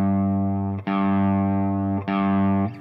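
Neunaber Expanse guitar pedal set to reverb, with sustained, heavily effected guitar chords ringing out and washing into a long tail; each chord is re-struck about a second apart, no talking.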